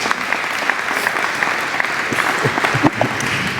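Audience applause at a State of the Municipality-style event in 2024, dense steady clapping filling the room, loud and continuous throughout.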